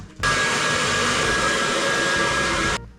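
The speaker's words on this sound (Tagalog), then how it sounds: "Pag medyo dry na yung hair nyo, mag-shift kayo sa cool ng dryer" A hair dryer blows hard and steady at close range, switching on abruptly and cutting off again after nearly three seconds.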